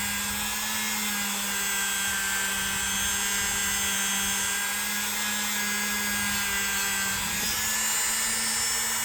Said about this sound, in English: You can use a wire wheel very gently across these back springs.